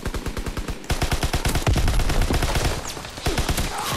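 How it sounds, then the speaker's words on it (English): Gunfire in the video game Call of Duty WWII: a fast, loud run of automatic shots up close, building into a dense, continuous volley, then easing into a few shorter bursts. "I must have shot him about four times."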